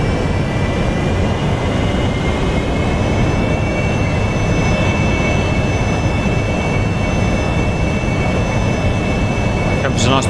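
A Harrier jet in the DCS combat flight simulator gives off a loud, continuous, unbroken engine roar for the whole stretch.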